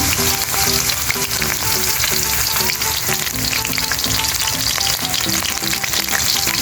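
Edible flowers frying in hot cooking oil over a medium flame, a steady loud crackling sizzle running continuously throughout with no voices.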